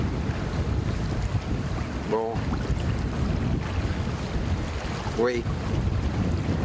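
Steady roar of wind and sea noise on a boat off Brittany heading to Île aux Moines, buffeting the microphone throughout, with two brief spoken words breaking through.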